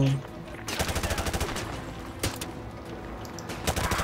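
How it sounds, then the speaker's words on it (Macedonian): Gunfire in Call of Duty Modern Warfare 2 Remastered: rapid automatic bursts of close shots, with a pause and a heavy single report before more firing. "Кој пука бе? Ти пука."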